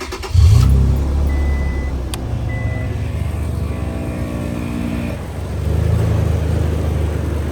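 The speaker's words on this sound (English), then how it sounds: "Turn the truck on." A second-generation Toyota Tacoma pickup engine cranks and catches, then settles into a steady low idle for several seconds, close by with no talking.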